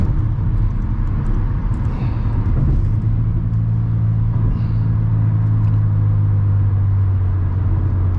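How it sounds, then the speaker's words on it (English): Dense, slow-moving road traffic heard from inside a car: a steady low engine and road rumble with a sustained drone, no talk. "It is very dense traffic,"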